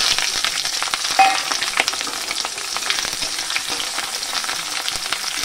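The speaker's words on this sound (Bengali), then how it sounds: "এগুলো একটুখানি ভেজে নেব" Chopped onion and slit green chillies sizzle steadily in hot oil, a dense continuous frying hiss with occasional stirring clicks, close and fairly loud with no voices.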